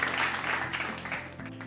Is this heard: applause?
yes